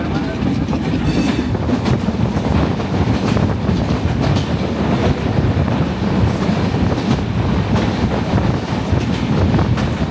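A passenger train runs toward Jashore, heard from aboard as a loud, continuous rumble with rhythmic wheel clatter and strong wind rushing past the microphone.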